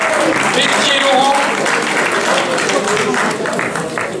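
Audience applause for a veterans B (50 and over) category winner on the podium of a UFOLEP Picardie cycling championship in Pasly, Aisne; sustained, dense clapping throughout with a voice speaking over it.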